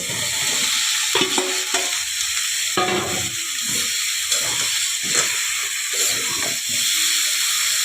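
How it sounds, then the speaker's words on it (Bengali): Cauliflower florets drop into a hot pan for a Bengali cauliflower curry, setting off a loud, steady sizzle and hiss with scraping stirs and clatter throughout, no voices. "এবারে আমি ফুলকপিগুলো দিয়ে দেবো।"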